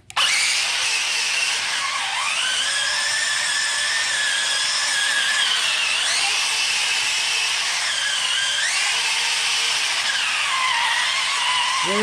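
An SG 1203 Ripsaw drift RC tank with an upgraded ESC drives with a loud, close electric motor whine. The whine rises and falls in pitch as the tank speeds up and slows down, and it continues without a break and without voices.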